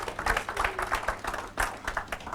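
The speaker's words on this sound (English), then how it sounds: "let's give him a round of applause to Louis Lowe." Applause from an indoor audience at an evening talk event, a steady patter of many hands clapping at moderate distance without any voices over it.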